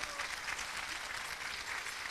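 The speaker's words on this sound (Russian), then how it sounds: "Аплодисменты, пожалуйста." Faint, even applause from a concert audience in Moscow welcoming a performer, heard as a soft, continuous patter of many hands from a distance.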